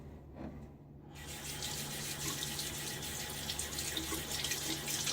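Water runs steadily from a tap while shaving lather is rinsed off fingers at a sink. The gushing flow starts after a brief quiet moment and keeps up a close, even hiss.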